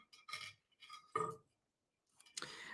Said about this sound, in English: I'm going to string on a little milky glass bead.